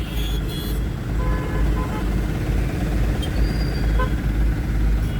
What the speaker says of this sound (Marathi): आणि हे बघा ट्रॅफिक किती गर्दी आहे बघा